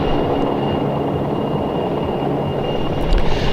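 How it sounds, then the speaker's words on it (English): Military rescue helicopters hovering at an air force air show, a steady broadband rotor and engine roar with a faint high whine, continuous and moderately loud. "Now we see the first deployment from on board the helicopter during this sequence, with the rescuers rappelling down from the lead helicopter"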